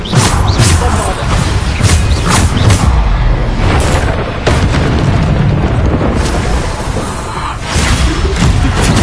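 Hogwarts Legacy spell combat brings repeated loud, booming Bombarda explosions and crashing impacts in quick succession, a dense, sustained barrage of blasts at close range.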